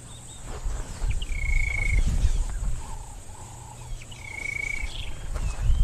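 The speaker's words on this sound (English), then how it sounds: "Just listening to some grey go-away birds that are alarm calling back here." Grey go-away birds give alarm calls in the African bush, a few drawn-out nasal calls sounding at moderate distance over quiet ambient hum and faint low rumble.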